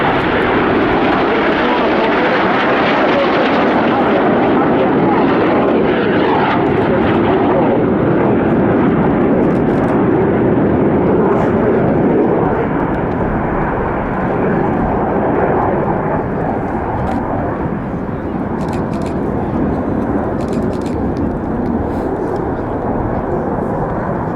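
Red Arrows jets flying a smoke-trailing formation display at RIAT 2022, a loud, sustained jet-engine roar that swells and then eases slightly, with a commentator talking over it.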